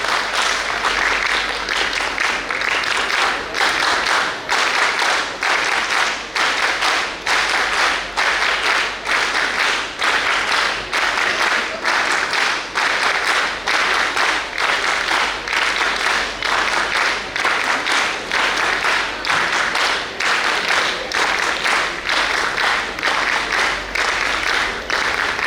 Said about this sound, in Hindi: तो मैं आपकी जोरदार तालियों से सौमित दुबे को मंच पर आमंत्रित करना चाहता हूं।